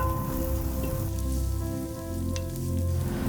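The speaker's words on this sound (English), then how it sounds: "I want to fry off that garlic and pepper just to kind of take the edge off that raw garlic flavor" Garlic and pepper frying in hot oil in a stock pot, a steady dense sizzle and crackle heard close and continuous, with a faint hum beneath and no talking.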